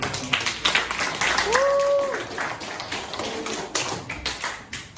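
Students in a classroom give a short burst of light clapping, fairly close, with voices talking over it and a brief tonal sound partway through.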